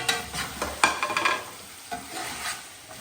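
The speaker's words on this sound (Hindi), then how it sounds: "अब हम इसमें चिकन ऐड कर लेंगे और चिकन का कलर चेंज कर लेंगे।" Chicken fries in a spiced masala in a pan, with close sizzling and scraping stir strokes in quick bursts that fade toward a softer crackle.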